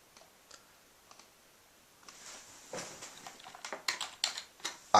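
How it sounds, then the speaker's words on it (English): Computer keyboard typing, quiet scattered key clicks at first that grow into a faster, louder burst of keystrokes, close and alone. "I type my message in there."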